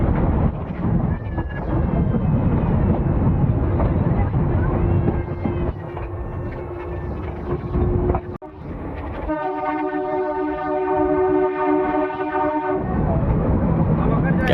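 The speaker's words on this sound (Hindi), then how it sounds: "क्या गजब वाइब देता है मीटर गेज का हॉर्न।" A rumbling meter gauge passenger train rolls along on the Goram Ghat line in India, then a loud, sustained horn blares for several seconds before the rattle of the carriages continues.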